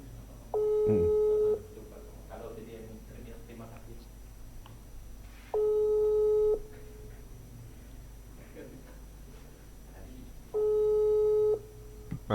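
A telephone ringback tone heard while calling someone: three evenly spaced tone bursts about five seconds apart, each lasting under a second, with quiet room sound and low background between them.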